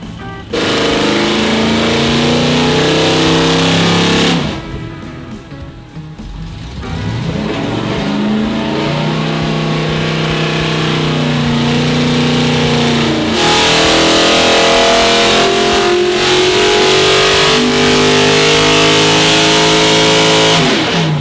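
A built LS V8 engine revs hard through a full pull, a loud sustained roar climbing in pitch, easing briefly, then winding up again toward about 6,400 RPM, close and dominant throughout.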